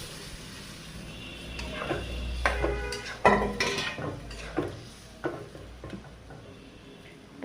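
Tomatoes go into a pan of fried spices with a little water for a bata fish and tomato curry, followed by irregular clanks and scrapes of a utensil stirring against the pan, close and moderately loud.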